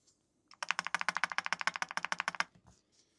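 Rapid, evenly spaced taps on the enter key of a Keychron K10 HE wireless keyboard produce a string of about twenty sharp, close clacks, followed by a couple of softer stray knocks.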